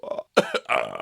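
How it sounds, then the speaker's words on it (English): A person burps into a camera, a short series of throaty belching sounds close to the microphone, the last one long and rumbling, with no other voices. "Just burping down the camera."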